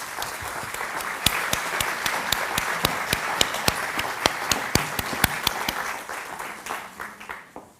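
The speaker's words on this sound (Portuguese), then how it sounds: "Uma salva de palmas, por favor." A seated audience at a literary gathering in Porto claps in a steady, even round, with distinct close claps over a dense background, fading out at the end.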